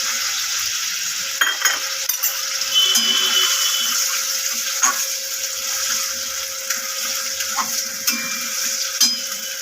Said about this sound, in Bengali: এটাকে নেড়ে নেবো